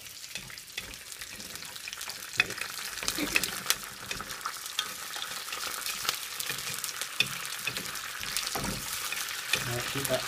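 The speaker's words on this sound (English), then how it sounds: "Right, keep that frying away for a minute." Food frying in a pan on a gas hob at medium heat while a takeaway-style Madras curry is cooked, a steady close sizzle and crackle with occasional stirring clatter running throughout.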